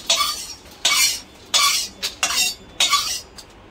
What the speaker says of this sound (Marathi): हे बघा, ही अशी आपली डाळ भाजून घ्यायची, जास्त काळी नाही होऊन द्यायची, एकदम खरपूस कमी गॅसवर भाजायची हळूहळू